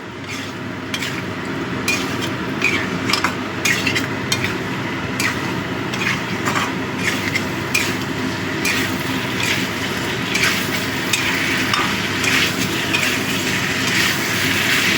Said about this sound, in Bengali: আদা জিরে বাটাটা দিয়ে ভালো করে কষিয়ে নেব তাতে আদা জিরের কাঁচা গন্ধটা চলে যাবে